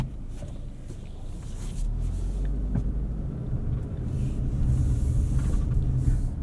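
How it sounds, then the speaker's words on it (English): Steady low road rumble heard from inside a 2024 Subaru Outback Touring XT on the move, growing slightly louder as the drive goes on, with no one speaking. "Let's go for a drive and see what this Outback is like on the road."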